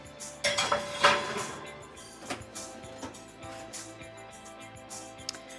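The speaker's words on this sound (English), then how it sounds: "taking a cast iron skillet and placing it in the middle of the center rack" A cast iron skillet set into an oven preheating to 425 degrees, a cluster of metallic clanks and scrapes on the rack at first, then sparse lighter clinks and taps over a quiet background.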